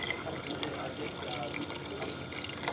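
Liquid ice cream mix pours into a Keshi soft serve machine with a steady, close, gurgling wash of flowing fluid, and a voice talks over it.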